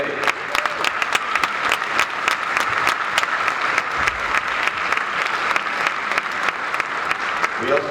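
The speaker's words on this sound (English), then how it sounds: "Everyone, please give a round of applause to one of our newest APs at John Jay." Sustained audience applause fills a school band winter concert hall, dense and steady clapping from many hands throughout, with a few sharper individual claps standing out near the listener.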